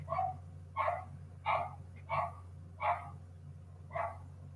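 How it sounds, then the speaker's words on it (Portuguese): Small dogs bark in a steady series of six sharp yaps, spaced about once every seventy seconds apart at a moderate distance, over a constant low hum. "tem muito cachorrinho latindo aqui"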